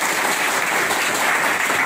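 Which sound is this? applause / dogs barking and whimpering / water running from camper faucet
applause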